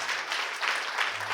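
A crowd applauds steadily and densely throughout a brief moment at a public ceremony, sounding loud and fairly near, with no other sound standing out.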